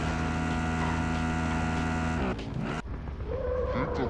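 A car engine drones steadily in a shooter game, then the vehicle lurches and skids near the end as the motor note drops and scrapes and tire noise follow.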